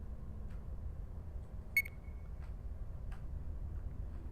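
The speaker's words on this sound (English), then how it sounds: "So that beeping is annoying, but I think it tells me my health is low." A single short electronic beep rises above a low, steady ambient rumble, with a few faint ticks around it: the low-health warning in the video game P.A.M.E.L.A.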